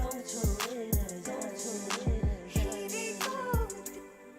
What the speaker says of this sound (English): this is a simple delay method